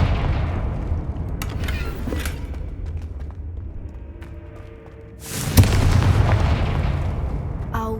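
A Confringo blast spell is cast in the video game Hogwarts Legacy, ending in a loud, booming explosive burst after a stretch of rumbling ambience and a few scattered thuds.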